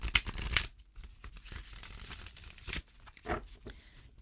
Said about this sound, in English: So let's have a shuffle.